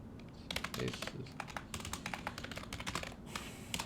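Typing on a computer keyboard during a programming session: rapid, irregular clicks of keys, quiet and close, continuing steadily with no talking.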